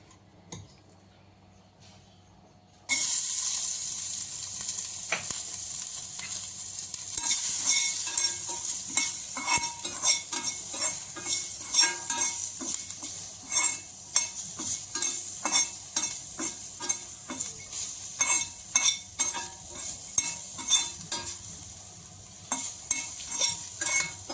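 Garlic frying in just two or three drops of oil for a dry lentil spice powder, a steady close sizzle with frequent spoon stirring and scraping clicks running throughout after a quiet start.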